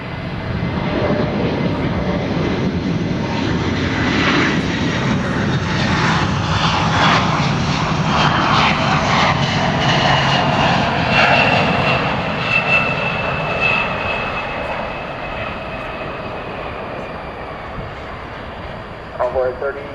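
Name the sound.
Boeing 747-400 jet aircraft engines at DFW Airport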